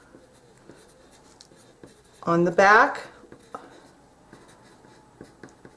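A pencil writes on wooden building parts, making soft, faint scratching strokes across the clip. A voice speaks briefly in the middle.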